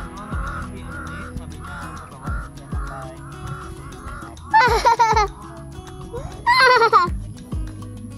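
A crow caws repeatedly in a camping spot on Mt. Gulugod Baboy, a series of short harsh calls with two louder, rougher bursts near the middle, over low background rustle.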